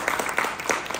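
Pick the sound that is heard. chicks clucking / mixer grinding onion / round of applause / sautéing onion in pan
round of applause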